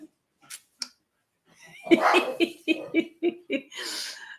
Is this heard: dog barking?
yes